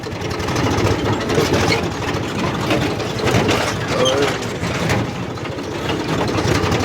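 A tractor engine runs steadily in a farm field, a continuous mid-pitched chugging drone at close range with no talk over it.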